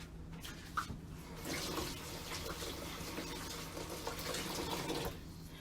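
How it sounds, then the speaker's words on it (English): Hands are rinsed under a running kitchen sink tap while raw chicken is prepared, a steady splashing flow of water that starts after a brief clatter and stops near the end, close and fairly quiet. "let me give my hand a quick rinse"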